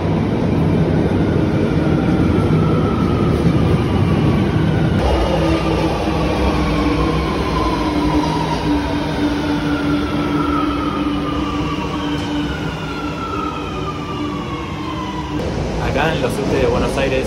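Steady loud rumble of a moving train in Buenos Aires, with gliding wheel and motor tones rising and falling under continuous cabin noise and people talking over it.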